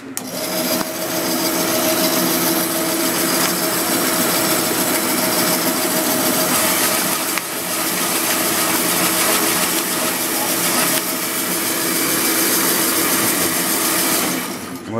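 A Rosback 220 perf slit score machine running with a steady, loud mechanical whir and rasping drone that continues unbroken, with only slight dips in level.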